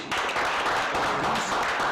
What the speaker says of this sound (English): we should give the state a very deep round of applause